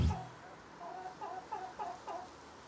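Chickens clucking: a short series of soft, rhythmic clucks from nearby hens in a quiet setting, with no talk.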